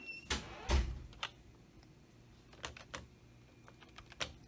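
Computer keyboard keys are pressed on an older college computer during setup, sounding as a few scattered, sharp clicks at close range, fairly quiet, with no talking.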